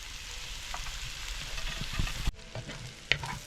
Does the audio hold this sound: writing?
no